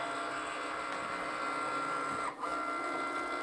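A Cricut Maker cutting machine cuts a design with a continuous close mechanical whir, broken only by a brief dip near the end.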